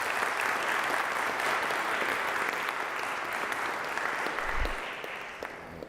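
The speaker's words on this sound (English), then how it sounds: "everybody that spoke really deserves a round of applause" A church audience at an annual parish meeting gives a round of applause, steady dense clapping that holds for several seconds and then fades, with a brief low thump near the end.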